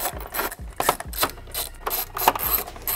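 Ratchet loosening 10 mm bolts on the front bumper of a BMW G80 M3 / G82 M4, giving close, loud rapid clicking bursts in several repeated runs with brief pauses between them.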